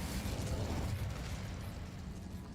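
A fire spell cast in the Hogwarts Legacy video game, a sustained roaring, crackling burst of flame that stays loud and full for a couple of seconds with a deep rumbling low end.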